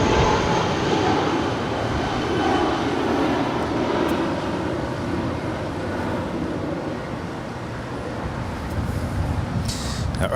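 An airliner taking off from runway 25 right at Los Angeles International Airport, a steady broadband jet roar held at a constant loud level throughout, heard from a distance outdoors, with a voice talking over it.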